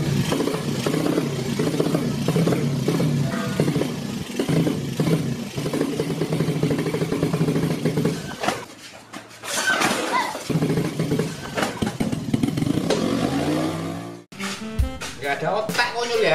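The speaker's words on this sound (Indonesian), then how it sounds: "Malah ngegas-ngegas kereta kayak gitu." A motorcycle engine revs and idles in the background while people talk over it, with a clattering sound near the end.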